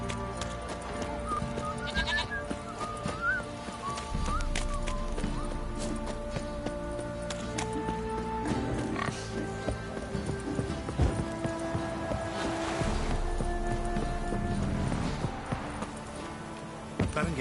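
Horse hooves clip-clopping in a PS4 video game, layered with game music and bleating farm animals at a steady moderate level, with no voices.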